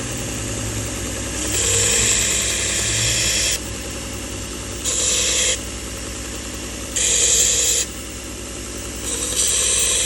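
A knife sharpening machine spins steadily at about 1900 RPM with a constant mechanical hum, and bright grinding hiss swells in repeated passes as a skinner knife blade is worked against it.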